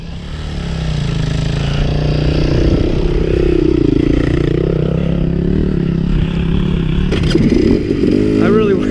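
A KTM 250XC or Honda CRF 250X dirt bike engine idles and revs steadily up close on a trail, its pitch rising and falling, with some clattering near the end.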